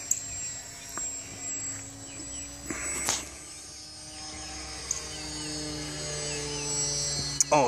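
A Visionaire RC model airplane flying without an AS3X receiver gives off a steady, thin electric motor buzz at a moderate distance, with a few sharp clicks and bumps near the microphone.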